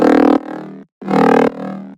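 Two sustained Serum 2 synth bass notes with the formant filter turned off, bright and buzzy with rich unfiltered harmonics, each ringing out briefly before fading.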